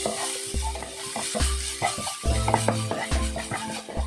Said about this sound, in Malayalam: നന്നായിട്ടൊന്ന് വഴറ്റി കൊടുക്കുക. എപ്പോഴും മീഡിയം ഫ്ലെയിമിൽ വെക്കാൻ ശ്രദ്ധിക്കണം.